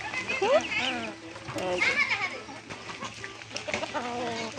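Hens clucking at feeding time in a backyard flock of ducks and chickens, a close, busy run of short clucks and squawks over a low background hum.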